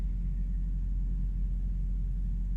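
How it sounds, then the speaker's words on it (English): Distant thunder from an approaching storm rumbles as a low, steady roll under a constant wash of deep noise, with no distinct cracks and no voices. "the storm's definitely getting close. I'm starting to hear the thunder."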